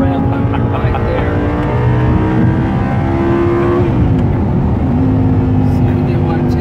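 A 2011 Audi R8 with a STaSIS-tuned 5.2L V10 drones with a loud, steady low rumble from inside the cabin during a test drive, its pitch holding and then shifting slightly as it cruises.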